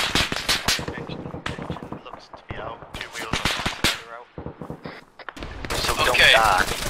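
Bursts of automatic gunfire in an Arma 3 firefight, loud, rapid volleys laying suppressing fire on a wall, with intermittent voices talking over the shooting.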